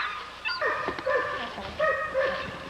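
Pit bull game dog lets out a few sharp yelping barks broken by high, whining whimpers, close by and loud, with no talking.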